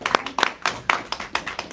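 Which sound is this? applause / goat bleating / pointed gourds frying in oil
applause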